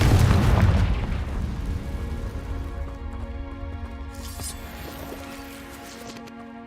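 Confringo fire spell blast in the Hogwarts Legacy video game: a heavy booming burst at the start that fades into a long, rumbling, crackling decay with a faint tonal hum beneath.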